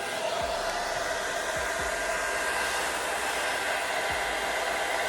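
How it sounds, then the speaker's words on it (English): A hair dryer set on low and cool blows air over the lace of a wig, giving a steady, even whoosh that holds throughout with a few low thumps underneath. "Then you want to like blow dry it in"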